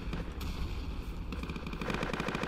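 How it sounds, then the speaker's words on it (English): Explosions and gunfire in a Roblox World War II Normandy beach battle game, a dense steady barrage of rapid blasts and bursts continuing throughout at close range. "Look at that explosion!"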